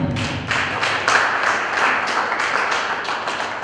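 A crowd at a music fan event applauds in a dense, sustained wash of clapping. The claps swell in a few loose pulses and stay fairly loud throughout, with no clear speech over them.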